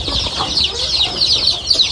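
Native chickens on a farm cluck and chatter near by, a dense run of overlapping high calls with soft rustling beneath, continuous through the whole stretch.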